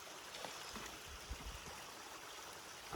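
Mountain stream at the last water source along the Appalachian Trail near Blood Mountain, a steady broadband rush of flowing water with a few low gurgles, moderately close and continuous with no voices.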